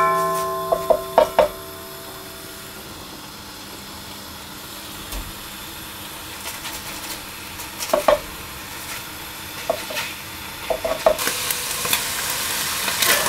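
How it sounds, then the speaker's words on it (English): Ground lamb frying in a pan for shepherd's pie gives a steady close sizzle, with a few sharp clicks and taps of a utensil breaking up the meat, and no voices. "I'm going to break that up, and I'm going to fry that off until it browns"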